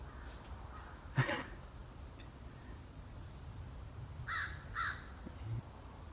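A few crows caw over steady outdoor background noise near a chicken yard, with one single call followed a few seconds later by a quick pair of harsh caws at moderate distance.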